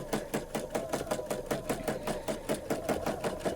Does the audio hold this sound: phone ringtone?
no